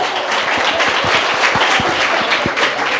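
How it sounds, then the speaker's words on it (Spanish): An audience applauds during a Catholic talk on the true church, a loud, sustained wash of clapping with a few distinct claps punching through near the listener. "Aplausos para él."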